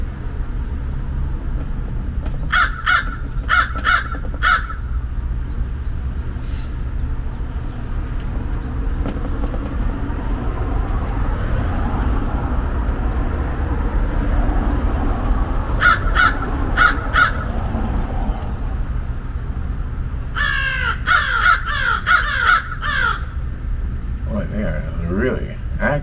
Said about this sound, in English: What are you squawking about?